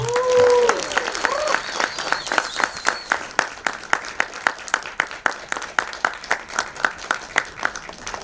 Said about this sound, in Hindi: let's make some noise for Mr. Johnny Lever